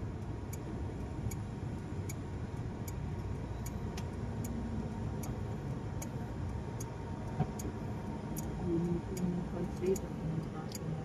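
Car traffic on a congested road near Alabang, Philippines, heard from inside a vehicle as a low, steady engine rumble with a regular ticking like a turn indicator.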